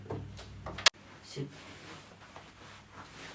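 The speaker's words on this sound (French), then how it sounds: "ferme la porte s'il te plaît" A door shuts with a single sharp, close thud amid a room's background noise, with brief voices and movement just before and after.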